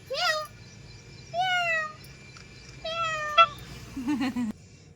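A cat meows several times in short, rising and falling calls spaced across a few seconds, close by, while children play with it at home; a low background hum runs underneath.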